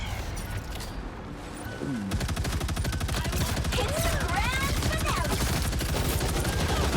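Rapid gunfire in the video game Marvel Rivals, a dense continuous automatic burst that intensifies after the first couple of seconds, with game effects layered over it and a voice talking faintly underneath.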